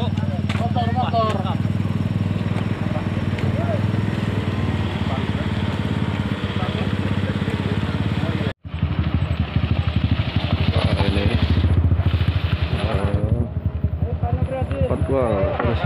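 A motorcycle engine rumbles nearby beneath ongoing chatter from several people, with a brief dropout midway before the engine and voices continue.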